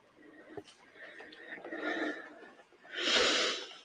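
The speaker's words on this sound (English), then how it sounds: "why are you panting so hard, you weirdo?" A character in the Aliens video game pants heavily, with ragged breaths, snorts and gasps that rise and fall over a few seconds and end in one louder, harsher exhale.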